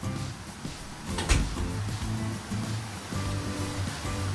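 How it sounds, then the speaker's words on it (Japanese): Steady rushing of a river flowing past an outdoor hot spring inn in Kochi, a broad continuous wash of water heard from a window with no talk. "あー、川の流れる音がしていいですね。"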